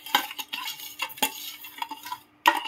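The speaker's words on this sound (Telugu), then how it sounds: "ఇందాక మనం పెట్టిన తాలింపు ఇప్పుడు దీంట్లో కలుపుతున్నాం." A spoon stirs hot tempering into ginger mango pickle, giving irregular metallic scrapes and clinks against the vessel, close and fairly quiet, with short pauses between strokes.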